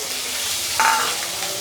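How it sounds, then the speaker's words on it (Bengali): Onion paste frying in a pan with cumin, a constant close sizzle with a brief louder scrape of stirring midway. "পেঁয়াজটাকে একটু ভেজে নিয়েছি, কাঁচা গন্ধটা যাতে চলে যায়।"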